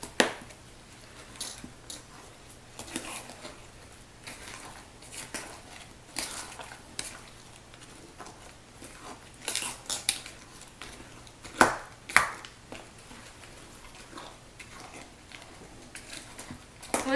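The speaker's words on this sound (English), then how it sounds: "Once you stir it in as much as possible" A spoon stirs Oreo and gummy worm dirt pudding mixture in a bowl, giving a steady run of soft scraping and light clinks against the dish, fairly close and without talk.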